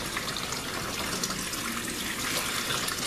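Tap water runs steadily into a sink while soap is rinsed out of handspun yarn, a close, continuous splashing rush with no pauses and no one talking.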